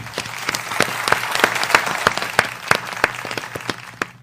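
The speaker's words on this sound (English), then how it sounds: "Let's give a round of applause" Audience applause at a church gathering, a dense steady patter of many hands clapping close by, with sharp individual claps standing out through the whole stretch and no talk over it.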